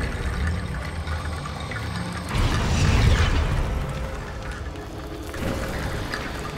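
An Incendio fire spell in a Harry Potter game bursts with a loud whooshing blast midway, followed by a crackling, rushing tail and a smaller surge near the end over ambient game sound.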